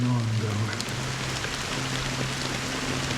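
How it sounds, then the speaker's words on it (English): Steady rain pours in the Honkai Star Rail game world, a continuous close hiss of falling drops that runs the whole time beneath a low sustained musical drone. "How long has this rain been ongoing?"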